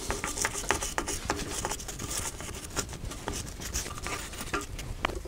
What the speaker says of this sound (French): Je vais déjà passer un petit coup de brosse